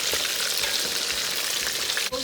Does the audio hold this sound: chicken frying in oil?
yes